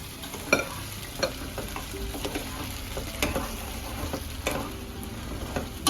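Hot oil for a colocasia leaf dish tempering crackles and hisses up close, while spoon scrapes and clinks against the pan come at irregular intervals.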